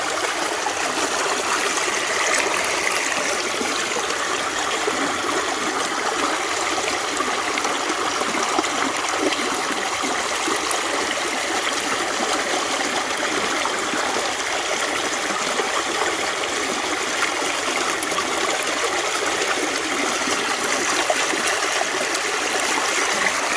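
Water runs continuously over gravel in a gold prospecting setup in West Virginia, a steady, close rushing and trickling wash with no break.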